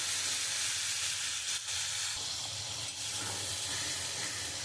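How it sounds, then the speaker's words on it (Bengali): Water added to hot spiced masala for egg curry, a broad steady sizzling hiss throughout, close and moderately loud, with no speech. "আমি এবার পরিমাণ মতন জল দিয়ে দিয়েছি।"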